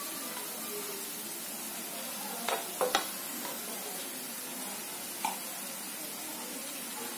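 Tuna pieces rubbed with salt and turmeric cook with onions in a pan over low heat, a constant close hiss and sizzle with a few distinct spoon scrapes and knocks near the middle, no talk.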